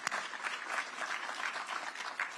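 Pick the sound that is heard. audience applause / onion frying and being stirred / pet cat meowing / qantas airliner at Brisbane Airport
audience applause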